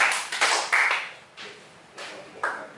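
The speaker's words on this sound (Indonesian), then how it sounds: "2 kali tepuk tangan buat mereka" Classroom students clapping for a student group, several short, sharp bursts of handclaps close by, with a brief pause between them.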